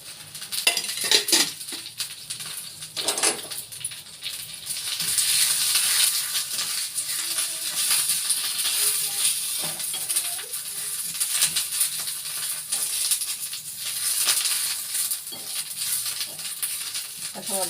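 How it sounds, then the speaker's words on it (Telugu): Curry leaves and oil sizzle in a frying pan with a steady hiss, broken up by frequent metallic clinks and scrapes of a utensil against the pan, close and fairly soft. "ఇప్పుడు ఏం చేస్తున్నానంటే కరివేపాకు వేసుకుంటున్నా. కొంచెం ఆయిల్ అయితే వేస్తున్నా."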